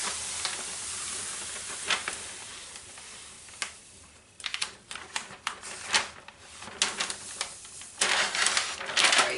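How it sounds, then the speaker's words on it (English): A sticker's backing peeled away for a paper file folder game: crackly ripping and rustling bursts come in quick irregular strokes, close and fairly loud, with light handling taps between them. "hold it down and just peel it back like this"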